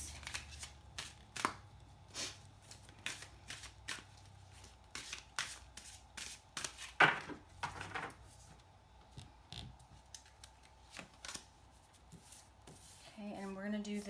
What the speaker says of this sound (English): this is how I shuffle my cards